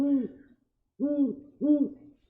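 Three deep, resonant hoots from a great horned owl named Oswald, each a short low call with a slight downward bend, sounding close and clear with silent pauses between them.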